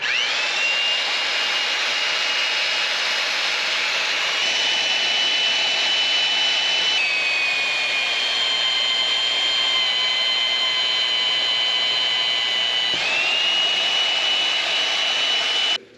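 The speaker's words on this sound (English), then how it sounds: "I reach around on the back and turn on the magnet, and the drill stays put." A magnetic drill with an annular cutter bores a hole in steel in a shop, a continuous loud high whine that holds steady for the whole stretch, shifting pitch slightly as the cut progresses, before cutting off at the end.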